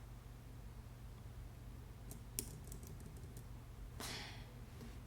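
Arrow keys are pressed on a computer keyboard. A few quiet, separate clicks sound close up against a soft background hiss.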